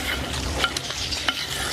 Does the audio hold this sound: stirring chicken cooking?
yes